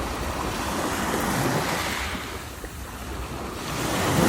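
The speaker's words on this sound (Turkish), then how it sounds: "Suyun sesi beni temizliyor." Ocean waves wash steadily onto the shore with a continuous surf roar, mixed with wind buffeting the microphone, swelling slightly toward the end.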